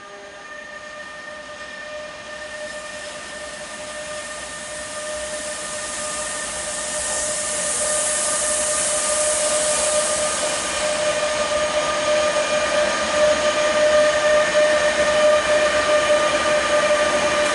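Freight locomotives, Traxx units of Euro Cargo Rail, starting off with a steady droning hum and rising whine that slowly grows louder over about seventeen seconds, heard from nearby outdoors with no talking.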